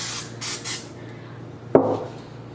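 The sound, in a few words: non-stick cooking spray sprayed on a baking sheet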